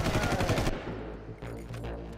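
Gunfire in Far Cry 1: a rapid burst of close, loud shots lasting under a second, then a quieter rumbling game ambience with no voices.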